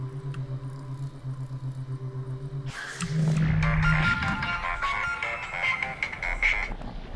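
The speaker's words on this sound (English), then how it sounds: "Well, now you know what my ringtone is." A phone ringtone bursts in loud and sustained after a few seconds of quieter, pulsing game tones, ringing on steadily to the end.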